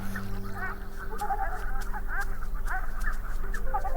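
Bar-headed geese on the Qinghai-Tibet Plateau give repeated honking calls, several birds overlapping in an irregular chorus over a steady low background hum, fairly close and clear throughout.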